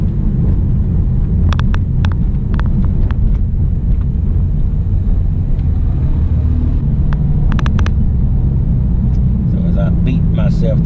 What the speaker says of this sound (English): I beat myself through this ridiculous